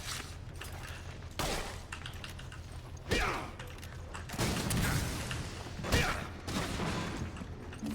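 Gunfire in the video game Resident Evil 5, with several sharp bursts spaced a second or so apart over a background of game noise.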